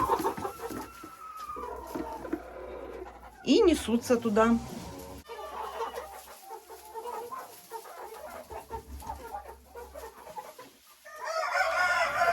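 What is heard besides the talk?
chickens clucking at the nest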